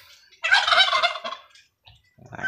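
Two male turkeys gobble in a loud, close burst of rapid warbling calls lasting about a second, then a brief quieter gobble follows near the end, with no talking.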